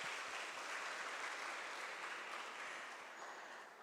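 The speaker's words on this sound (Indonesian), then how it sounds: "Tepuk tangan buat teman-teman semua." A crowd applauds steadily, a dense wash of clapping that holds strong throughout and eases off slightly near the end.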